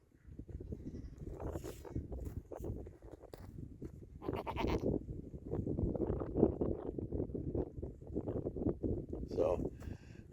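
Goats bleating on a farm among a herd where newcomers are being pushed around, several calls rising and overlapping at moderate distance while someone talks over them.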